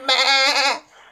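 A single loud goat bleat, wavering and nasal, holding for most of a second before cutting off, with nothing else heard around it.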